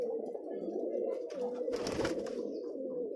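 Original Rajshahi Giribaz pigeons coo in a steady, overlapping chorus of low throaty calls, close and fairly soft, with a brief burst of rustling in the middle.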